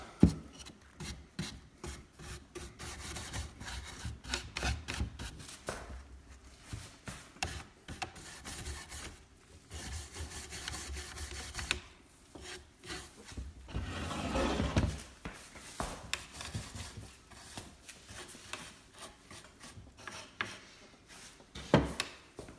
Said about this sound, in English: if you are sanding, this is where the real mind-numbing time goes